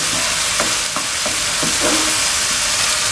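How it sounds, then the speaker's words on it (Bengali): Fish masala with Kashmiri chili powder sizzling steadily in a pan while a spoon stirs it, with a few scraping strokes, close and continuous and with no talk. "মশলা একদম ভাজা ভাজা হয়ে গেছে"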